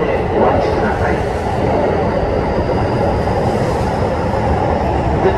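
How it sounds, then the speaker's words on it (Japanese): A Keikyu train rolls into Yokohama station, its loud rumble and wheel noise filling the platform steadily while an automated announcement plays over it. "まもなく普通 野山行き電車が参ります。"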